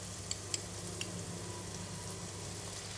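Garlic and fermented bean curd frying in oil, a faint steady sizzle with a few light utensil taps early on, quiet and even throughout.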